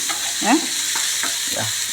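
Black pepper and cumin dry-roasting in a hot pan, heard as a few close, brief scraping stir strokes over a faint steady hiss, with no voices.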